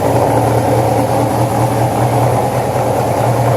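Carbureted motorcycle engine, a Harley or Suzuki, idles steadily close by with a low, even rumble and no voices.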